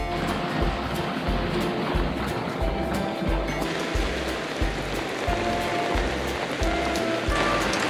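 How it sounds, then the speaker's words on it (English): Rain pours steadily onto a sailing boat at anchor off Panama, a dense, even hiss with soft low thumps repeating underneath, and no voices. "we are stuck here in that rain"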